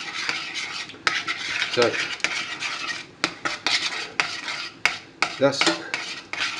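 A spoon stirs lumpy cheese sauce in a pan for cauliflower cheese, scraping and clinking against the metal in an irregular rhythm with a faint sizzle. Someone speaks briefly.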